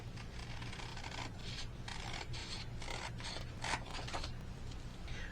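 Scissors cut through paper for a no-sew journal, a series of close, quiet snips and rustling strokes repeating unevenly over several seconds, with no voices.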